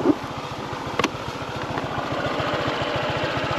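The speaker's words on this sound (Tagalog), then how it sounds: "So guys, nabalaho yung ating motor." A motorcycle stuck in thick mud on a rural path, its engine chugging in a fast steady rhythm close by, with a couple of brief clanks near the start and at one second.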